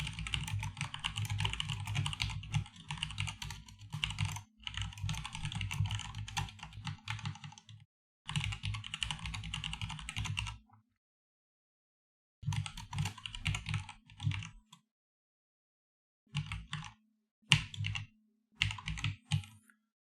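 Java code being typed on a computer keyboard: close, clattering bursts of keystrokes in several runs separated by silent pauses, with no voice over them.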